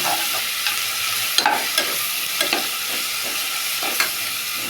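Ginger and garlic fry alongside lightly browned onions, producing a constant bright sizzle with a few sharp stirring clinks and scrapes scattered through it, and no one speaking.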